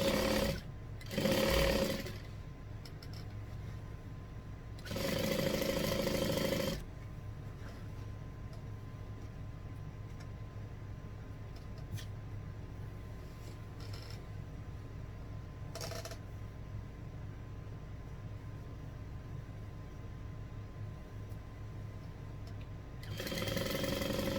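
A domestic sewing machine stitches quilt binding on a quarter-inch seam in a few short whirring bursts, separated by long quiet pauses, with no talking.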